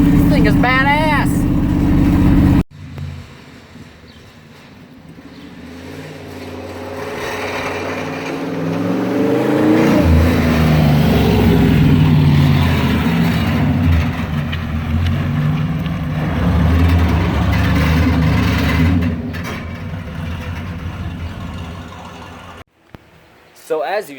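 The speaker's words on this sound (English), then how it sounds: "I accidentally did a little burnout. As you've heard." A drift truck revs hard through a burnout, a loud sustained engine roar with tire noise rising and falling over about twenty seconds, with people talking over it.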